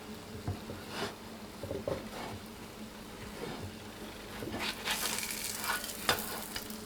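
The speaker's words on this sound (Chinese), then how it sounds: "盖上盖子，继续烙制4分钟。" Sugar-coated flour and egg cakes pan-fry slowly over low heat under a lid, giving a soft, steady sizzle with a few louder crackles and clatters near the end.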